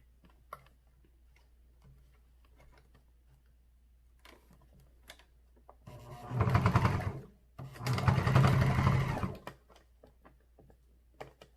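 A sewing machine stitches a fabric face mask in two sustained runs of a few seconds each, loud and close against a quiet room with faint scattered ticks before them.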